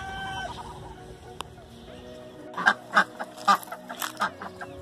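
Farmyard ducks quack in several short, loud bursts close by, clustered in a rhythmic run after a quieter stretch of low background murmur.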